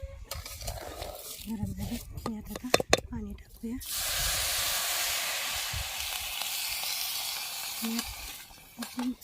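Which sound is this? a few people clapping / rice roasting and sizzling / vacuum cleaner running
rice roasting and sizzling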